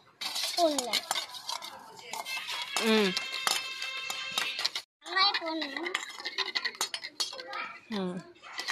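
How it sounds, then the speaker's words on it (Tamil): An egg omelette mixture with salt being stirred in tiny miniature cookware, with light clinks and scrapes of a utensil against the dish, heard under near-continuous voices talking, one of them childlike. "உப்பு கொஞ்சமாக போடு, அவ்வளோ போதும். வாங்க கலக்கிக்கலாம்."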